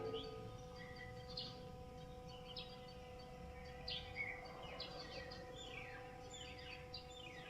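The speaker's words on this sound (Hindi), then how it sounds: "चिड़ियों की चहकने की आवाज़ आ रही है" Small birds chirp and tweet in scattered short calls, faint and somewhat distant, over a quiet outdoor background with a low steady hum.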